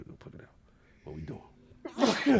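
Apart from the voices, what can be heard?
sneeze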